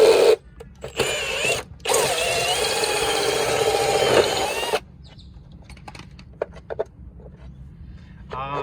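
A power drill runs in loud, continuous bursts while an EV charger is being installed, with a short pause near the start and then a long, steady whine. After it stops, faint clicks and handling noises follow, with people talking nearby.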